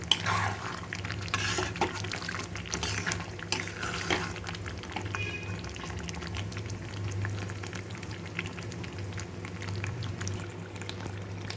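Chicken curry with ghee sautés in a pan, producing a soft, steady, continuous sizzle and bubbling at a low, even level.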